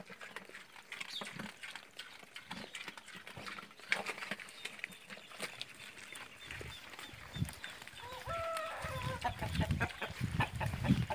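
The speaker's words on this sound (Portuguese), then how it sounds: "Ó, esse frango aqui, ó," Chickens cluck and scratch around a rural farmyard, with scattered close clucks and rustling over low background noise and no one speaking.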